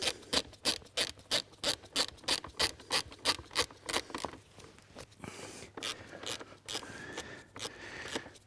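A hand ratchet tightens a bolt into a captive nut beneath a car's heater and blower box, giving a rapid, steady run of close, sharp clicks that later turn softer and more irregular.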